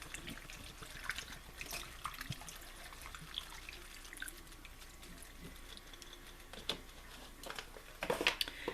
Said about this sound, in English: I'm going to pour in 2 cups of water